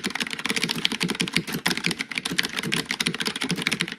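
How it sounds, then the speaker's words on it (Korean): Rapid, continuous typing on a budget mechanical keyboard with double-shot ABS keycaps and lubed Cherry-style stabilizers, crisp close-up keystrokes clattering in a dense, even rhythm with no hollow echo. "전반적으로 타이핑 시 통 울림이 없이 사용할 수 있습니다."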